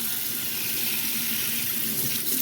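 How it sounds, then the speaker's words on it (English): Running tap water rinses vinegar off a salt water generator cell from a pool, a steady broadband splashing stream that holds even and close throughout with no voices. "I'm just rinsing off the vinegar."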